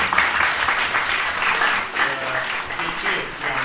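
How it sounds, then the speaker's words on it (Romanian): A lecture audience claps steadily and loudly for several seconds, a dense, even wash of applause with no pauses. "Haideți să-și aplaudăm!"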